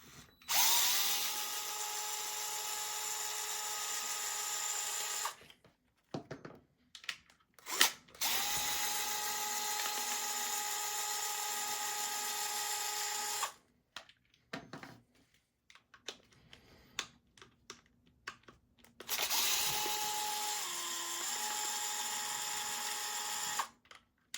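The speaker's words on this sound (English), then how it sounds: "It's a gyroscopic screwdriver, so whichever way you turn, it turns the bit." A gyroscopic power screwdriver with a security bit whirs in three sustained bursts, backing screws out of a DeWalt 20V battery pack case. Quiet clicks and handling noises fill the pauses, and no one speaks.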